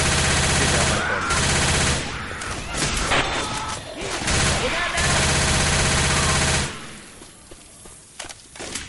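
Gunfire in Left 4 Dead 2 during the Hard Rain campaign: dense bursts of rapid shots and automatic fire come in waves, loud and close, then thin out to scattered shots near the end.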